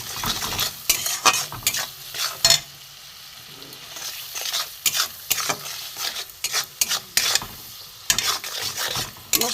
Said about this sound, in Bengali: চিনি দিয়ে দিলাম, নুন দিলাম, দিয়ে একটু কষিয়ে দিই ভালো করে।